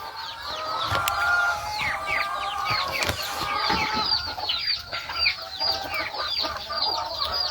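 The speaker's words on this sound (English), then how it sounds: "Alright, let's feed these chickens." Backyard chickens cluck busily at feeding time, a crowded chorus of overlapping clucks and squawks from several birds close by, with a rooster crowing among them and a couple of sharp knocks.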